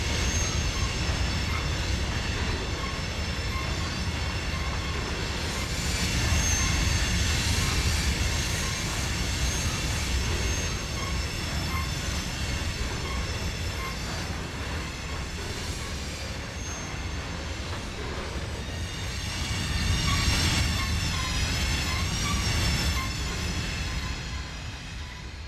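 A diesel train in the Trainz video game, an ES44-type locomotive running in notch 8, gives a steady, loud engine drone and rumble throughout with swelling surges and no talk.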